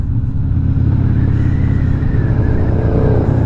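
BMW S1000RR sport motorcycle engine at Daytona Bike Week, a steady loud low rumble with a slight rising rev, continuous and close throughout with no talking.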